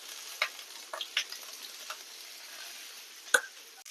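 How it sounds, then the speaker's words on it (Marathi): Okra frying in oil in a home kitchen, a faint, steady sizzle broken by a few light stirring clicks and one sharper utensil knock near the end. "तर आपल्याला याच्यामध्ये थोडंसं तेल टाकून मग परत फ्राय करून घ्यायची आहे"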